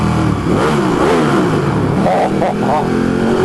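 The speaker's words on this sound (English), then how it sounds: "Rev bomb." A Ducati 1299 Panigale S motorcycle engine revs hard and close, a loud rasping roar that rises and falls in quick blips while a person talks over it.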